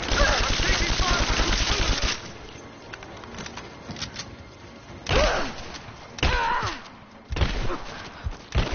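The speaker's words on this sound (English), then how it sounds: "I'm taking fire!" Rapid automatic gunfire aimed at the player in the video game Rise of the Tomb Raider, a dense loud burst at the start followed by scattered heavier shots and thuds, with faint voices around.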